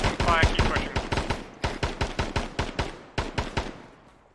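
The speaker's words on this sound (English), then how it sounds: "Sounds like shots south for this target." Video game gunfire in rapid, rhythmic bursts of loud, close shots that keep a steady cadence, with a short pause midway, then taper off slightly toward the end.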